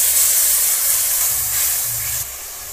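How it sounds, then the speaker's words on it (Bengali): Ground spice paste hitting hot oil with fried onions while cooking a pangas fish curry, a loud close steady hiss of sizzling that eases slightly and drops off near the end, with no talking. "এবার বেটে রাখা মশলাটা দিয়ে দেবো।"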